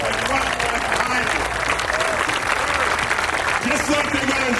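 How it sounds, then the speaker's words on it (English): Applause from a crowd at the World's Toughest Mudder obstacle race gathering, a dense, steady roar of clapping that stays loud throughout, mixed with voices and cheering. "So a big applause for yourself, that person next to you, and front and behind"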